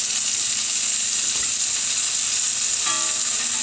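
Saganaki cheese fries in a pan, turning golden and starting to melt, with a constant loud, close sizzle and hiss that carries on without a break.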